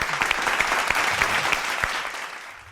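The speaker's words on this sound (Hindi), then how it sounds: "तालियां" Applause from a TV talk-show studio audience, a dense burst of clapping that tapers off toward the end, with no talk over it.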